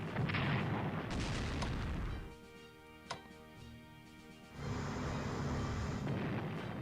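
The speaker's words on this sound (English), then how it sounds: "Let us move the battleships in and engage the Italian destroyers." Battleships fire on Italian destroyers in the WWII strategy game Strategic Command: World at War. Loud rumbling booms fill the start and end, with a quieter stretch between that holds one sharp crack.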